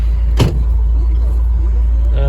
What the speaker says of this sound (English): I do have a little more gear noises coming out because I'm running at lower revs